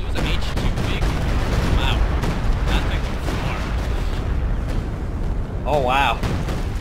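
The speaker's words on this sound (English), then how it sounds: "Oh, there's the artillery." Artillery fire and explosions rumble loudly and continuously in a video game battle, with dense booms and thuds throughout and voices talking over them.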